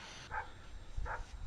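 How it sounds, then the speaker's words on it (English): A dog barks twice at night, two short distant yaps about a second apart over a faint background hiss. "it sounds like this dog wants to eat me"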